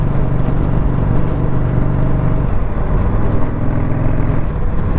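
A 2021 Indian Scout Bobber motorcycle engine on stock exhaust pipes, heard from the rider's seat as a loud, steady low drone with a shift in pitch partway through, no voices.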